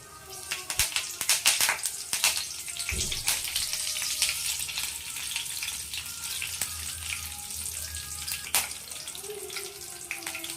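Continuous crackling sizzle of cumin seeds, a chilli and curry leaves frying in oil, with sharp pops and spatters scattered throughout, close and fairly loud, no talking.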